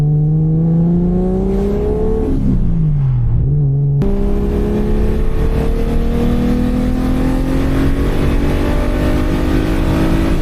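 A car accelerating hard on a German highway with no speed limit, the engine note climbing steadily through the gears, with one sharp drop at a shift before it rises loud and continuous again.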